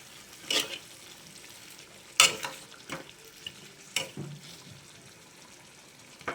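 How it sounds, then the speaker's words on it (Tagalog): Chicken adobo with soy sauce and sugar stirred in a pan, where a spoon clanks at scattered intervals over a faint simmering background. "Mix natin guys."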